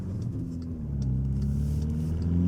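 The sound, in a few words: tuned VW Golf R 2-liter turbo engine revving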